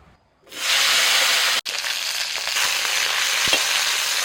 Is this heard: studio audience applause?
no